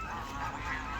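Geese honking in a farmyard poultry enclosure, a brief, dense burst of overlapping honks close by, with no talk.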